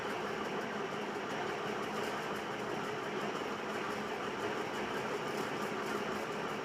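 Sewing machine running a continuous curved seam on a blouse cup, a steady even mechanical whirr throughout, close and moderately quiet, with no talk.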